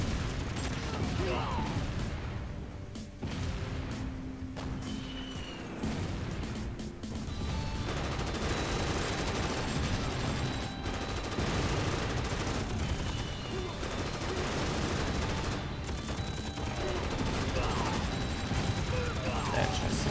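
Artillery and small-arms fire in a strategy game about crisis and disarmament, a dense, continuous barrage of distant booms and crackling shots with mechanical clatter, while someone talks over it.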